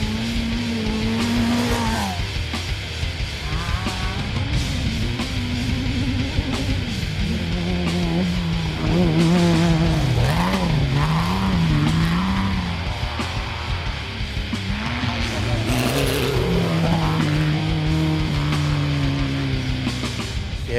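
Rally cars race on a desert track at the Sea Lake Mallee Rally, engines loud and revving up and down as they pass near and pull away, with repeated gear changes and no voices.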